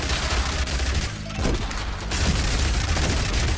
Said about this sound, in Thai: เอาระเบิดเล่น